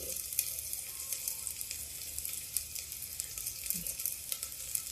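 Sprouted fenugreek with onion and garlic sizzles steadily in hot oil for a cabbage dish, a continuous close crackle with small pops throughout and no voices.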